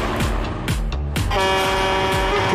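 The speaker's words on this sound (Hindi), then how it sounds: "हॉर्न है ना भाई" A car horn honks in several loud blasts close by, short toots followed by a long sustained one, over engine and road noise.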